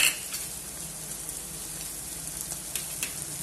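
Crushed ginger and garlic sauté in a pan with a steady, hissing sizzle, fairly close and continuous, with a few faint clicks of a utensil and no talking.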